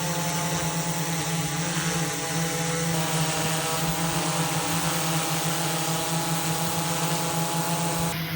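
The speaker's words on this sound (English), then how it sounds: "now when we have the drone up in the air" A drone hovers in the air carrying a TINAMU RMS LiDAR scanner as payload, a loud steady propeller whine and buzz holding level throughout with no talking.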